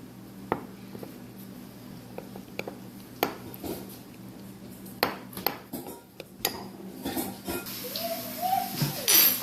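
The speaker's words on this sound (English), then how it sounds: "And I'm just going to mix this." A utensil scrapes and clinks against a glass jar while mixing kombucha sourdough starter with water and flour, in irregular taps and stirs, close by, growing busier toward the end.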